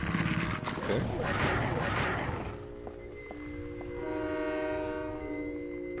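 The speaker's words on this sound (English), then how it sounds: "So now the train that we need is here" Train pulling into a platform in Silent Hill 3 HD, a rumbling, clattering approach giving way to sustained tonal horn or brake squeal notes, with a voice talking over the start.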